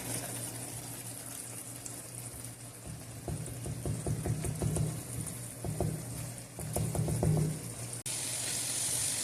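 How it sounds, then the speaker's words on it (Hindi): Goat brain masala fries in a pan while being stirred and broken up, a low steady sizzle with a series of quick scraping, clattering strokes in bursts, fairly faint and with no talk. "आप इसको तोड़ते रहें, हलाते रहें, भूनते रहें।"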